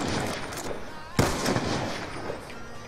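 Gunfire in the video game Black Ops 2, a dense, continuous background of shots with one sharper, louder burst about midway through.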